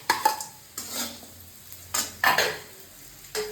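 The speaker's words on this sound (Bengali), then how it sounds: "এবার আলু ভাজতে করলাটা মিশিয়ে ঢেলে দেবো।" Potato and bitter gourd stir-fry in a pan with a soft sizzle, broken by several clinking scrapes of a metal spatula against the pan in irregular bursts. The sound is close and fairly quiet, with no talking.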